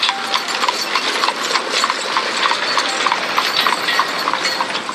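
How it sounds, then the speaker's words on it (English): Horse hooves beat in a fast, steady galloping clatter, a dense continuous run of close, crisp clip-clops over a light background hiss, no talk. "So the king put Alyssa on his horse and galloped away to his lovely"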